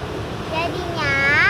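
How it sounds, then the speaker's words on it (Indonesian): Ocean surf at Ngitun beach in Gunung Kidul in the late afternoon, a steady broadband wash of waves with wind noise that swells louder toward the end. "Ombaknya juga agak mengerikan karena"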